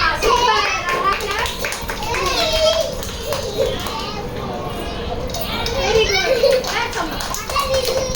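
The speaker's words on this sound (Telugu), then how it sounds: "భాగ్యలక్ష్మి క్లాప్స్." Children at a school gathering clap in short rounds amid lively chatter and kids' voices, with an adult speaking over the noise.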